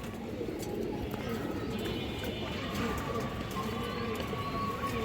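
Pigeons, including a male Muslodom, coo softly amid a constant busy background hum. The cooing is low and continuous rather than clearly separated calls.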